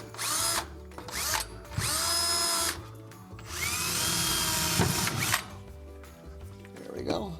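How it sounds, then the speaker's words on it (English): A power drill pilots a hole into a metal stud while mounting closet cleats, running in several sustained high-pitched bursts of a few seconds each with short pauses between, close and loud, with a voice briefly speaking. "now I'm going to pilot a hole through into the metal stud"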